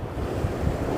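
Sea waves breaking over coastal rocks near Dunstanburgh Castle, Northumberland, with strong wind buffeting the microphone, a close, loud, continuous rumbling wash of surf.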